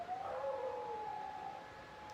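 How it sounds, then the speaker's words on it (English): An outdoor emergency siren sounds during its monthly test, a long sustained wail that slides in pitch and holds steady, heard at a distance and fairly faint. "That's the emergency siren."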